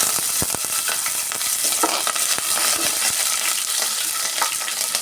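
Green chillies frying and being stirred in a pan, a steady sizzle with spatula scrapes and clicks running throughout, close and fairly loud.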